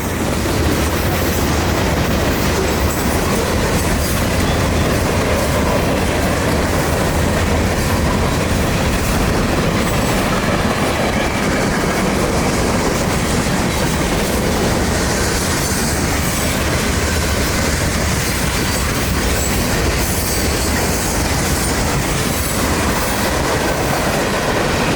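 A CSX freight train with SD70 locomotives, number 727, rolls steadily past on the Jessup subdivision, a loud continuous rumble of railcars with rhythmic clickety-clack of wheels and occasional squeal, no voices.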